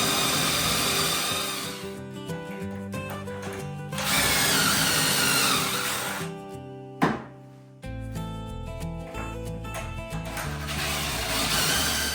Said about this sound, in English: I'm doing all my pocket holes right now.